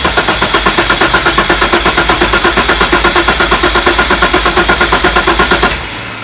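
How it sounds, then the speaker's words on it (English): A 35-year-old Jaguar XJS engine, upgraded to four litres, cranks over on the starter with no fuel. It makes a loud, steady, rapid rhythmic churning for about six seconds, then stops abruptly. "First time we cranked over a 35-year-old motor."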